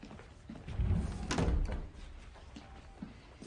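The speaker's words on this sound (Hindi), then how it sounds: "दरवाजा बंद करो।" A door is closed, a faint muffled thunk and slide heard at a distance over low room ambience, followed by a few soft knocks, with no speech.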